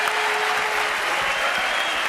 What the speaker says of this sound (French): Applaudissements, mesdames, messieurs, pour ce jingle fait avec des cloches de Pâques.